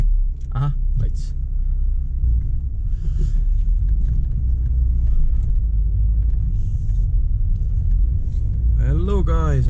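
A Volkswagen Golf Mk2 drives through city streets with a steady low engine and road rumble throughout, while someone talks intermittently over it.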